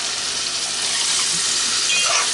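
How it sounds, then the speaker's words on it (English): Water poured into a hot pan of sofrito for arroz con pollo gives a steady, close, hissing sizzle that swells slightly near the end, with no talking. "I'm going to add a little bit of water."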